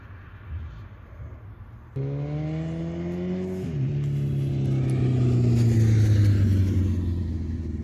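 Motorcycles on a summer ride through countryside: a low engine rumble suddenly rises and holds, its pitch dropping as a bike goes by, then a steady, loud growl builds as more machines roll past nearby.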